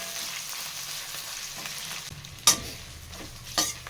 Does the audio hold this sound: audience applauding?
no